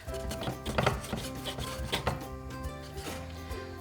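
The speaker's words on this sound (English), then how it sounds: "take a sharp knife that you have and cut it into strips like this" A sharp knife slices through a stack of bacon laid on top of each other, cutting it into strips with a quick series of soft, dull chops and rubbing strokes on a cutting board, close and fairly quiet.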